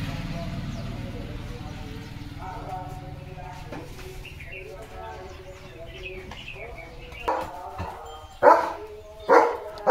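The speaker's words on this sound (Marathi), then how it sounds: "गुरं चाललेत रानात चरायला, त्यांना भुंकतोय" A German Shepherd barks several times in loud bursts toward the end at cattle heading out to graze, after a stretch of low rumbling and murmuring voices, with birds cooing faintly.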